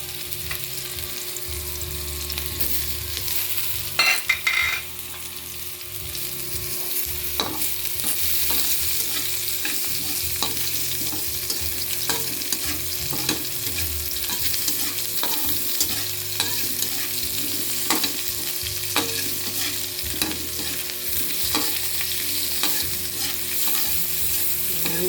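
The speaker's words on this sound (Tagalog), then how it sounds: "Ngayon, i-mix natin yung ating luya." Ginger is stirred into a pan where tilapia cooks over medium-low heat, with a steady sizzle of frying and repeated scraping and clinking of the spoon, no talking.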